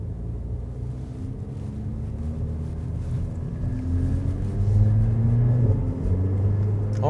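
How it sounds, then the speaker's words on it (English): A train passes a level crossing, heard from inside a stopped car as a low, steady rumble that swells and grows louder toward the end, with faint wind noise. "There's a train coming."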